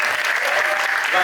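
A brief, dense burst of applause from an audience at a discussion event, steady clapping filling the whole moment with a voice faintly underneath.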